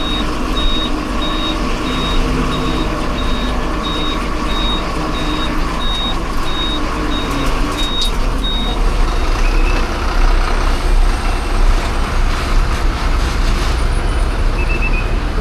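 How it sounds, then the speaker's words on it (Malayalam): A Thiruvananthapuram–Thalassery bus pulls into the busy Thrissur bus stand, its steady engine rumble under dense roadway noise while a repeating reversing beep sounds through the first half. "തിരുവനന്തപുരം തലശ്ശേരി ബസ്സാണ് ഇപ്പോൾ കയറി വന്നത്."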